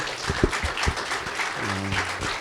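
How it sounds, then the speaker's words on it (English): Audience applause at a speaker series event, a short burst of clapping with some low tonal sounds and a brief hum underneath, moderately loud throughout. "we're going to start with another round of applause"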